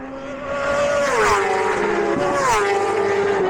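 A high-revving 220-horsepower British Superbike screams past nearby at Knockhill circuit, its engine note sweeping down in pitch, with a second rising-and-falling whine following close behind.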